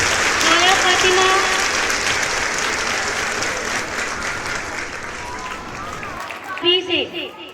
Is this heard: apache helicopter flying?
no